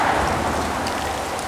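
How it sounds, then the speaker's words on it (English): Heavy torrential rain pours down outdoors at the start of a storm, a loud steady wash of drops with no pauses and no voices. "So it is a torrential downpour right now"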